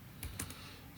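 A few quick, faint keystrokes on a computer keyboard as commands are typed into a Linux terminal, with light clicks in a short burst and no talking.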